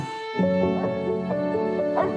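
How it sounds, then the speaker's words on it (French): A dog barks and whimpers in a French film trailer, a quick run of excited yelping barks fairly close, with a voice briefly audible. "Pourquoi il aboie comme ça, ce chien?"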